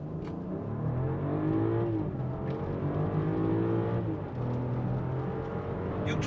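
A BMW X7 40i with a 3-litre turbo engine pulls hard toward 100 km/h, its engine note rising steadily through the gears with brief dips at each shift, loud and continuous from inside the car with no talk.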